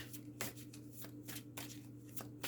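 Tarot cards being shuffled by hand, a steady run of soft riffling flicks and slaps repeating several times, close and fairly quiet with no talking.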